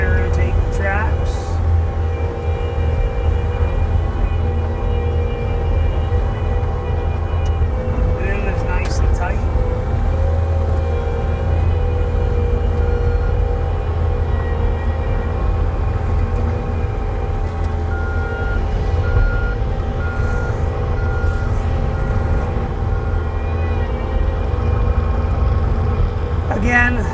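A 2022 Bobcat T770 M Series rubber-track skid steer loader with a 92 hp engine runs at a constant loud rumble while its tracks counter-rotate. Someone talks over the engine.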